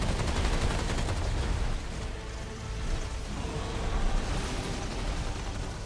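Dense gunfire and explosions roar throughout a boss fight in the video game Remnant 2, a continuous loud barrage of shots and blasts with no pauses.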